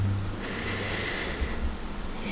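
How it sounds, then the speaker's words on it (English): A long, steady inhale drawn in through the nose during a calm breathing exercise, close and breathy, lasting around two seconds with no talking. "Take a deep breath in"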